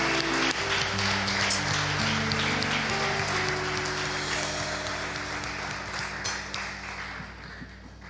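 Congregation in a church applauding, a steady crackle of many hands clapping beneath sustained organ-like tones, gradually fading over about eight seconds.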